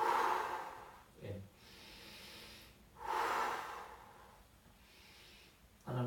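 Slow, deep breaths during a home stretching workout for back, shoulder and foot pain: audible inhales and long exhales repeat close to the microphone in an unhurried rhythm.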